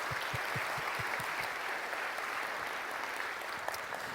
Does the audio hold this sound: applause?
yes